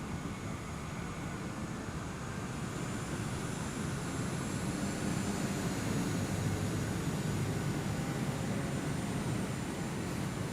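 A TBM 930 turboprop in Microsoft Flight Simulator 2020 takes off from the Canary Islands, its engine making a steady, loud, unbroken drone with a faint high whine, and no one talking.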